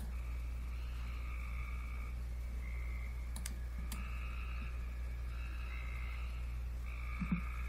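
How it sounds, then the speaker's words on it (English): Cope's gray tree frogs give repeated short, raspy trills in a series of bursts, moderately near, over a steady low hum, with a couple of sharp clicks in between. "The trill of the Cope's gray tree frog is sort of less musical, a little harsher or more raspy"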